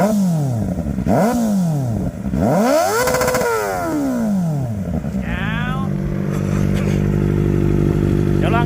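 Kawasaki ZX-4R motorcycle fitted with an SC aftermarket exhaust, its engine revving hard and repeatedly up and down, loud and close, with a voice speaking briefly underneath.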